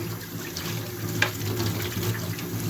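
Washed breakfast dishes are rinsed under a running kitchen tap, with a steady splashing stream, close by, and a faint clink of crockery partway through.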